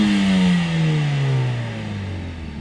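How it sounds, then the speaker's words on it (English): A 2020 Mercedes-Benz CLA 45 AMG engine settles from a loud, close rev, its pitch gliding steadily downward into a lower, even hum over a few seconds, with no voices. "once I put my foot on the brake, it's going to rev up and hold the ideal revs for the perfect launch"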